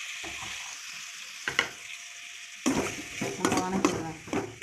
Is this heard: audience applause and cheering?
no